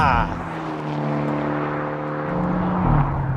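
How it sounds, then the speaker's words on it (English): Subaru WRX or Hyundai Elantra N driven in sport mode, engine droning steadily from inside the cabin before an upshift, then a brief exhaust pop and a rising note near the end, under faint talk. "The farts on the upshift."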